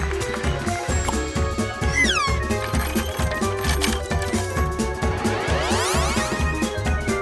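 A cartoon cat meows over bouncy, rhythmic music with clip-clop-like beats and sliding synth tones, the meows sitting clearly above the steady musical backing.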